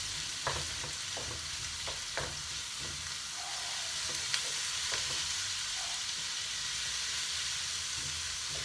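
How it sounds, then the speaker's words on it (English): Onions frying gently in a pan for spicy mussels, a soft steady sizzle and hiss with scattered scraping taps of stirring, fairly quiet and without talk. "Give that a good old stir."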